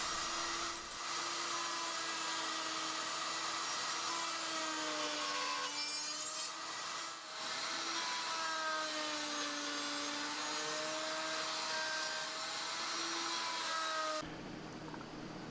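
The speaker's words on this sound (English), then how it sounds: "With the jig dialed in as much as it ever will be, I start cutting the corners of the boxes." Shop-made finger joint jig cutting the corners of plywood boxes, a steady loud saw whine with shifting tonal hum running continuously, cutting off sharply near the end.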